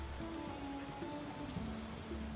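Rain falls in the video game Tavern Keeper as a soft, continuous patter at a quiet level, with faint tonal game sounds beneath it.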